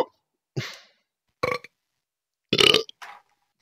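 Several burps in a row during a Counter-Strike (CSGO) voice chat session, a short belch, a longer loud one and a couple of quick trailing burps, separated by silence.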